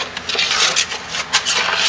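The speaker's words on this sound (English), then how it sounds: "these pieces are breaking up really good with my spatula" A spatula scrapes and breaks up chunks of rebatched homemade lye soap made from recycled scraps, giving a steady, close gritty rubbing with a few sharper scuffs over two seconds.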